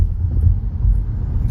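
A car drives along with a low, steady rumbling road and engine drone, close and fairly loud, with no voices.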